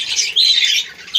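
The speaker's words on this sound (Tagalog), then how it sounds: "akin pong maipagmamalaki ang mga ibon na ito kahit ganyan lamang po sila kasimple" Birds in a small backyard colony give loud, harsh squawks close by, two or three bursts in quick succession with no voices.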